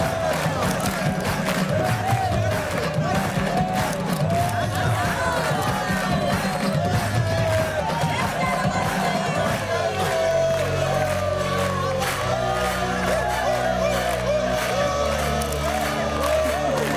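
A large crowd cheering and shouting at a busy gathering, loud and continuous, with whoops and bellows rising over a dense roar before settling into a steadier hum with a low droning beneath.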